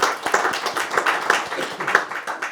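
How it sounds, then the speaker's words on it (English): An audience at a science and innovation event claps for a couple of seconds, a lively patter of many hands in a hall. "Applause for that one."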